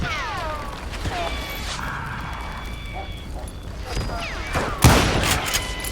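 Gunfire in the Western shooter Call of Juarez Gunslinger sounds as scattered sharp shots, with a loud crack near the end, mixed with game music and effects while someone talks over it.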